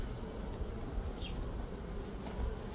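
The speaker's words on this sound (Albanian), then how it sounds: "nuk duam që të na futen bletët" Honeybees buzz steadily around a hive frame during an open-hive inspection, a dense continuous drone with faint wingbeat whines rising and falling close by.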